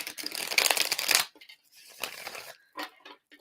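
Tarot cards are shuffled in a quick riffling burst, then a few softer card slides and taps follow, close and fairly quiet.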